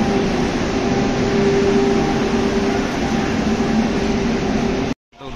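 Steady, loud rumble of the Vande Bharat Express running at speed, heard from inside a carriage, with a constant hum and no talk, cutting out abruptly near the end.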